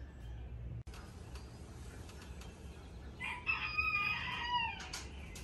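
On a homestead, a rooster crows clearly near the middle while chickens cluck quietly in the background, with a few soft knocks and general low ambient rumble.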